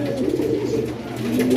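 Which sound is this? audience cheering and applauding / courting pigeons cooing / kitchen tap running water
courting pigeons cooing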